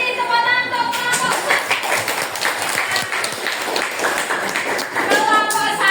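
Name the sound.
classroom applause for group 1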